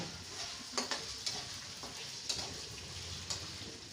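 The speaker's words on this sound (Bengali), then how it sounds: "আদা রসুনের পেস্টটাকে একটু ভাজা ভাজা করে নিলাম।" Ginger garlic paste fries quietly in hot oil, a soft continuous sizzle broken by a few sharp stirring scrapes and clicks in a pan, with no voices.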